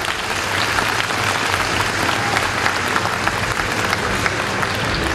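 Audience at a conference applauds steadily, a dense, even wash of many hands clapping for about five seconds with no pause.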